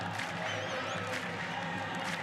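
Football stadium crowd at an AFC Champions League match between Al Ahli Saudi and Shabab Al Ahli, a sustained roar of cheering and whistles filling the space, with a broadcast commentator faintly underneath.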